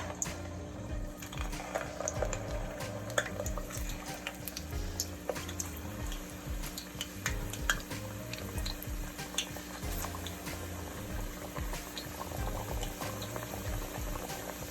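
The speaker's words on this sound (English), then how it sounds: "So let's go ahead and add our plantains in there" Plantains cook in hot oil in a pot, giving a steady bubbling, boiling fry with fine crackles and spits, continuous and close, with no talking.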